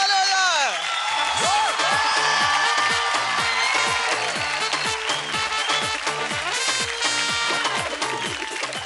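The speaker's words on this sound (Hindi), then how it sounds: "ज़ोरदार ताली हो जाए." An audience at a televised children's dance competition show breaks into applause and cheering, with whoops and shouts over music and a host's voice throughout.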